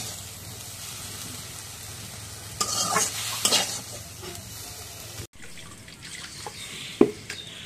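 Greens (shak bhaji) being stirred and fried in a pan, soft sizzling with scraping stirring bursts and occasional clinks, close and fairly quiet.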